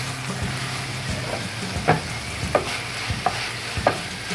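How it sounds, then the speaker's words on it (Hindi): Chopped vegetables and chilli being stirred in a bowl, a few soft scraping strokes spaced about a second apart over a quiet background hum, no voices. "अब इसको हम अच्छे से मिक्स कर लेंगे वेजिटेबल्स के साथ।"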